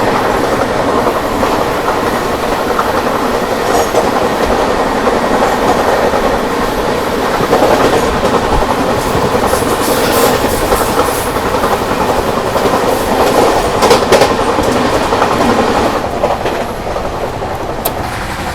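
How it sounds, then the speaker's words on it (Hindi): A Rajdhani Express train overtakes the LTT Rajgir Janta Express at high speed on an Indian railway line, with a loud, continuous roar of rolling wheels and rhythmic clickety-clack heard close by throughout, and no voices. "अब ये मारेगी जनता एक्सप्रेस को ओवरटेक, तो उसका ओवरटेक दिखाते हैं।"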